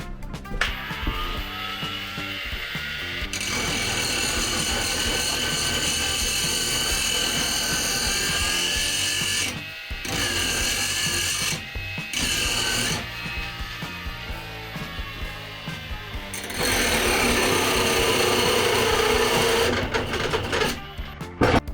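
A ProCraft PW2700 brushless angle grinder runs and cuts a slot at first speed, a loud sustained high whine with steady tone, interrupted by a few brief drops and restarts, rising again near the end under load.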